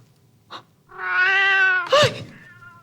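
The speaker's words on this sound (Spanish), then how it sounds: "¿Quién dejó entrar un gato en Pacapaca?" A cat gives a short chirp, then a long, loud drawn-out meow followed by a sharp harsh yowl, close and clear with no voices over it.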